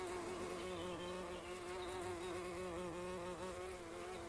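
Bees buzzing around a hive in the video game Everdream Valley, a continuous steady drone with a wavering pitch, quiet, with no talking.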